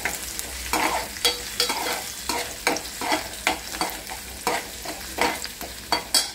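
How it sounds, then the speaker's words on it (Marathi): Onion and red masala paste fry in a pan, a continuous sizzle broken by rhythmic, evenly spaced stirring scrapes about every half second, close and without talking. "कांदा पूर्ण भाजून घ्यायचा"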